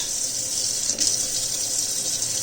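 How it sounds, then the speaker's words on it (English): Water runs in a steady, close, hissing stream as a little is poured over cold leftover rice taken from the fridge, with no voices over it. "I am also gonna put a little bit of water on it."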